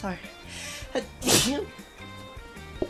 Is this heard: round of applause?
no